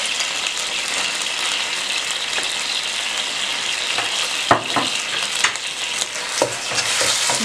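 Spoon stirring a sauce of soy sauce and tomato paste in a sizzling pan, a steady hiss of frying under scattered scraping knocks from the utensil, close and fairly loud.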